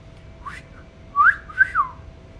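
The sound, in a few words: whistling in video game Disco Elysium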